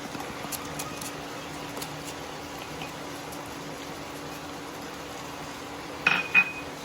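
A lid set back onto a cooking pot with a quick metallic clink near the end, after a stretch of quiet kitchen background with faint simmering.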